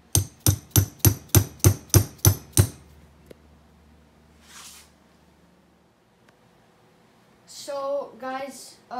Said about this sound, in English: and just hammer it in there.